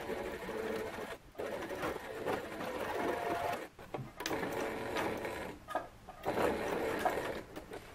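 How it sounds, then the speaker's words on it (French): A sewing machine stitches a seam on a ruffled dress in steady, fast whirring runs, close and clear, broken by several brief pauses between bursts of stitching. "Ensuite, j'essaie au maximum de faire une couture à 1 mm de mon passage de fil."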